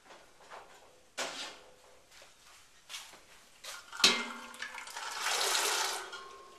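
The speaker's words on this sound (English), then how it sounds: "it's time to put them in the ice water" Splashing and clattering as steamed peas are dropped into a bowl of ice water, with a sharp clink midway and a sustained watery rush toward the end.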